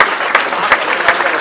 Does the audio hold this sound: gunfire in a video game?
no